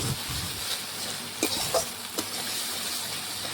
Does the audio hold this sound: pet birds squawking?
no